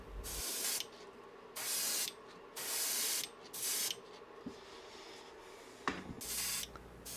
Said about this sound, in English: Now I'll mist it over with some transparent bright green.